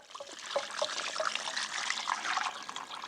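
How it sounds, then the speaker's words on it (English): Brine liquid poured gently from close range over beef shank, a soft irregular trickle and splash with small droplet sounds lasting a few seconds, quiet and without speech. "we're just going to take your liquid and just going to pour it real gently right over the top"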